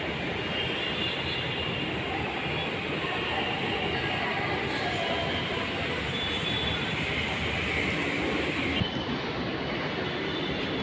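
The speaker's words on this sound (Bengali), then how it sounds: "এদিকের মেট্রো ট্রেনের আকার অনেক বড়" A large metro train at a station gives off a loud, steady rumbling roar that holds evenly throughout, with no voices over it.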